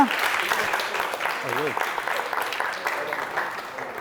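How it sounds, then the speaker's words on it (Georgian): Audience applauding after a contestant's rapid-fire quiz round on a student book-quiz show, a steady wash of clapping across the whole stretch with a voice briefly heard over it. "აპლოდისმენტები შესანიშნავი ბლიცისთვის გუკას"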